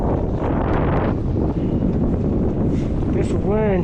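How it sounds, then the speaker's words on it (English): Strong wind gusts over Lake Norman, buffeting the microphone with a loud, continuous rumbling roar. A person's voice briefly cuts through near the end. "This wind hasn't let off yet. It's been like this all morning."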